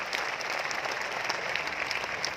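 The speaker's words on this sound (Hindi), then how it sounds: "जोरदार तालियां बजाएं" An audience at a gathering in Bhilwara applauds loudly, a dense, even roar of many hands clapping that holds steady throughout.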